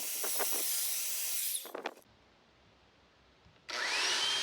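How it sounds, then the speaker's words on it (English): A belt sander grinds loudly against wooden boards, then cuts out into a quiet pause before the harsh, steady whir starts up again. "I also took the belt sander and sanded the main faces of the boards"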